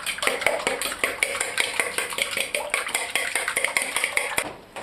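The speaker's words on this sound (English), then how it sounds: "now we're getting the eggs ready. Adding some milk, and we want to mix them." Eggs and milk whisked together in a pan, with a quick, steady clatter of utensil against metal throughout, close and fairly loud, fading at the very end.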